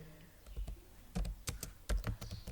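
Quick bursts of keystrokes on a computer keyboard while C++ code is typed, irregular clicks and clacks close up and fairly quiet, without speech.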